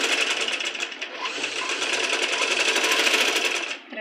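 A sewing machine stitches piping in one continuous run of close, steady whirring and rapid needle rattle, easing off briefly just before the end.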